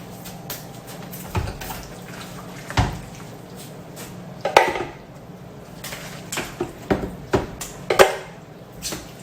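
Soft wet plops and scrapes of a slotted spoon lifting roasted tomatoes into a blender, in irregular bursts with quiet gaps between.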